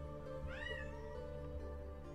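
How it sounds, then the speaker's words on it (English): A single pet cat meows once, a rising-then-falling mew lasting under a second, heard indoors over a steady background hum and game music. "Is that my cat?"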